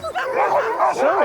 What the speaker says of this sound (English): That's why they're all barking and howling.